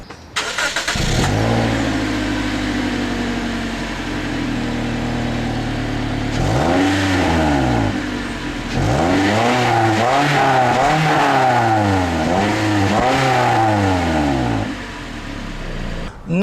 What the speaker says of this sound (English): let me show you guys an exhaust clip really quick